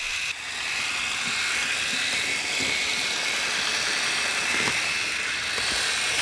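A motorized plastic model tank runs with a steady, close electric whir and buzz, a faint mechanical rattle and a few light clicks threaded through its hum.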